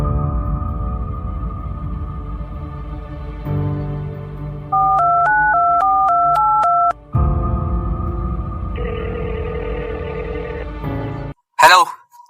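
Telephone keypad tones in an audio drama, a run of distinct dialing beeps after a tone-like drone, followed by a ringback-style tone and a short sharp burst at the end; no talk over it.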